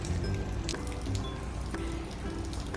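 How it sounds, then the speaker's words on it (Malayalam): Steady early-morning rain drips outdoors, scattered droplets tapping irregularly over a continuous soft wash of falling water, moderately quiet and with no talk. "നല്ല മഴ സ്റ്റാർട്ടായിട്ടുണ്ട് ഇവിടെ"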